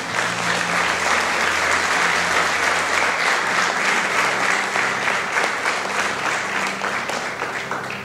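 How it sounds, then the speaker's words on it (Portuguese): A church congregation applauds during a sermon, steady dense clapping that fills the room, sustained and loud before tapering slightly at the end. "Vamos aplaudir ao Senhor por isso?"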